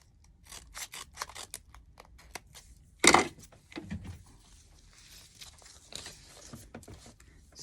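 Scissors snip through a piece of craft material while making Easter bunny stands: one loud, sharp cut in the middle, surrounded by softer handling clicks and rustles, with quiet talk nearby.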